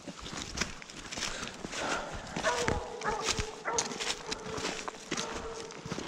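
A hunting dog barks at a treed raccoon during a cold night coon hunt in the woods, repeated barks at a middle distance, with footsteps and rustling nearby.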